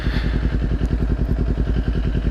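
Kawasaki Ninja 400 motorcycle engine running steadily and close, with a pulsing low-pitched exhaust beat and some rattle as the bike rolls along and slows to pull over.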